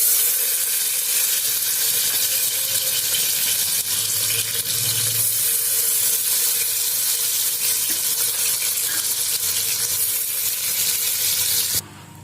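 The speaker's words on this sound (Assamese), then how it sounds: "অলপমান ঘি এতিয়া দিম মই মানে এই খিচমিচ আৰু কাজুখিনি অলপমান ভাজি ল'ম দেই" Raisins and cashews fry in ghee in a home kitchen pan, a steady close sizzle with faint stirring, ending abruptly.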